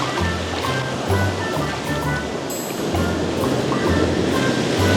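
Strong ocean waves crash and churn against rocks along the shore at a Los Cabos resort. A loud, continuous roar of surf with rolling low rumbles fills the whole stretch, close and with no gaps.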